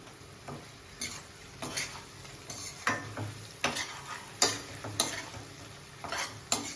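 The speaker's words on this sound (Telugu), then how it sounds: "ఎగ్స్ కానీ కొంచెం ఆయిల్లో ఫ్రై అయిపోయినాయి" Eggs frying in a little oil for a garlic chilli egg dish, a soft sizzle punctuated by regular spatula scrapes and stirring clicks about once a second; no voices.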